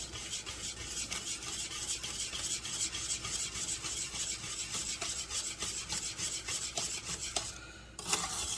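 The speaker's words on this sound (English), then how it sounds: "now, just stir everything together" Collard greens with butter being stirred in a pot, giving a steady close-up rubbing, scraping rasp of a spoon against the pot that runs continuously, with a brief pause near the end.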